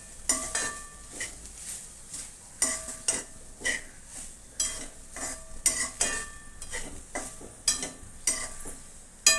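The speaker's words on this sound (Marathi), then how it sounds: "प्रथम आपण हा नारळ परतवून घेऊया" Grated coconut being sautéed in a pan for coconut vadi, with a run of sharp, regular scraping and clinking strokes of a metal spoon against the pan over a faint background, close and uninterrupted by talk.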